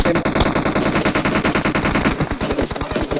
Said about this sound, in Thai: ผมยิงบอทคนลงมาสวน มีคนลงมาสวน